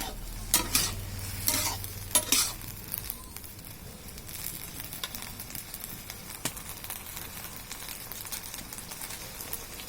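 Green okra being stirred in a frying pan, with a few loud scraping stirs early on and then a steady soft sizzle and light patter of frying.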